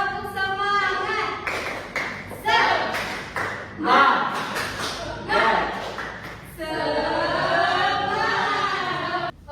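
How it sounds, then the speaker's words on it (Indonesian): A classroom performs a rhythmic 'tepuk semangat' clap cheer, with bursts of hand claps and thumps alternating with voices chanting in unison, loud and close. "Ibu punya tepuk semangat."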